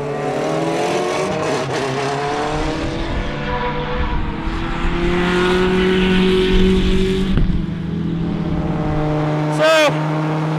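A Praga R1T EVO race car with a 380 horsepower engine drives on a track, its engine droning loudly and steadily with shifting pitch throughout, and a brief sharp whine near the end.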